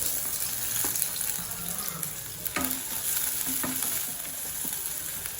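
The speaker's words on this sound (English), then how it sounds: "So now the pan is super hot. Onion and green chili." Onion and green chili sizzle in a very hot pan, a steady close frying hiss with a few sharp pops and clicks, with no talking.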